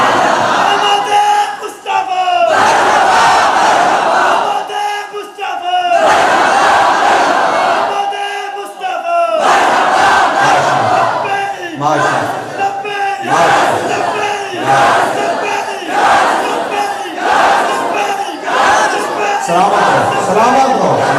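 A large crowd at a Milad religious gathering chants slogans in loud, rhythmic call-and-response waves, with roaring group shouts recurring every couple of seconds.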